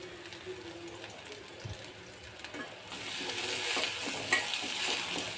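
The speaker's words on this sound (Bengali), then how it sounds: "পেঁয়াজটাকে একটু হালকা নেড়ে চেড়ে ভেজে নিব, হালকা ভাজবো।" Chopped onions being lightly stirred and fried in a pan, with green chillies already added; a low, steady sizzle builds partway through, with scattered scraping stir noises over it.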